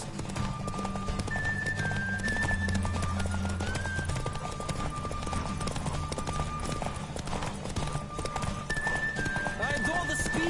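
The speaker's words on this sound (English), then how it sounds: "Don't spare the horse!" Horse galloping and whinnying in the video game The Witcher 3 Wild Hunt, a rapid steady clip-clop of hooves with neighs, under game music and voices talking.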